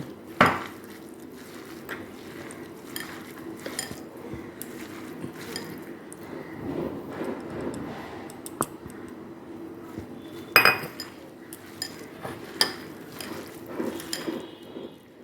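Ground chickpea dal is worked into a banana stem chop mixture in a bowl, with soft squishing, scraping and occasional sharp clinks of utensil against the dish.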